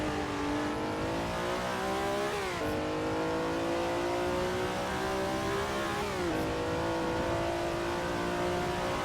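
Alfa Romeo GTA race car engine at the 1967 Daytona Continental 24-hour race in a PC racing game, a steady high-revving drone with two gear changes that drop the pitch before it climbs again.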